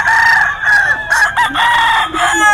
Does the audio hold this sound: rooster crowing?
yes